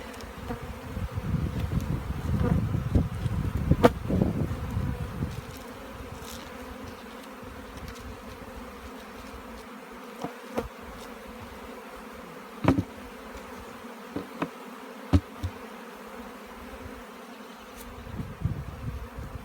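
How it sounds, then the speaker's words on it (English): Honeybees hum steadily around garden hives during an inspection, with a thicker burst of buzzing early on and occasional sharp knocks and clicks of handling. "Checking the Bees"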